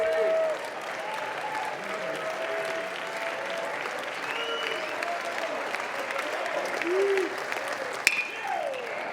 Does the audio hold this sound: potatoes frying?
no